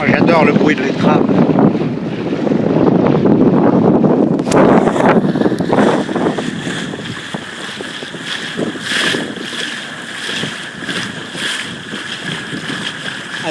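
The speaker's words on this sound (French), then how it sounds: "Moi j'adore le bruit de l'étrave." A sailboat's bow cuts through open water, giving a steady loud rushing and hissing wash mixed with wind buffeting the microphone, with a faint tonal hum in the later part.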